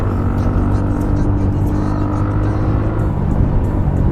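Two-wheelers in a drag race, a TVS Ntorq XT scooter against a TVS Raider motorbike, roar close by in a steady, continuous engine drone as one overtakes the other on the road, with a rider's voice faintly present underneath.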